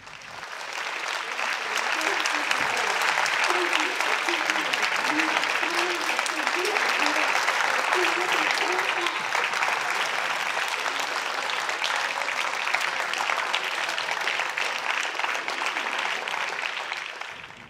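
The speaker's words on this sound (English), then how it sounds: "Traders in Tokyo even broke out in applause." Traders in Tokyo applaud on a trading floor, a dense, sustained burst of clapping from many hands lasting the whole stretch, loud and close, with faint voices mixed in.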